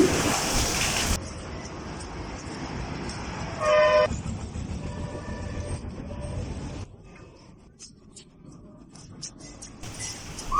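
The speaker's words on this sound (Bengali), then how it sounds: "রাস্তা দিয়ে অনেক গাড়ি তাই আমরা এক দিয়ে হেঁটে যাচ্ছি" Busy roadside traffic in Bangladesh, heard while walking along the road near a school: a steady rumble of passing vehicles with a loud car-horn toot near the middle and further short honks later.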